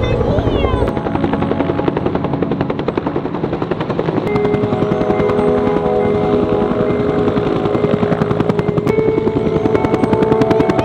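A helicopter flies over during a forest fire rescue, its loud, steady rotor chop and turbine whine filling the air continuously at close range.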